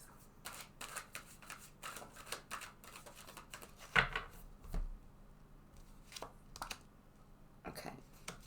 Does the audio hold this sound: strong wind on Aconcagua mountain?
no